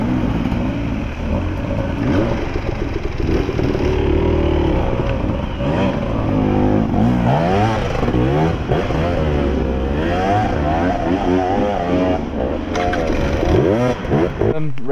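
A KTM enduro motorcycle at a hill-climb competition revs repeatedly, its engine pitch rising and falling in sweeping bursts, with people talking loudly over it throughout.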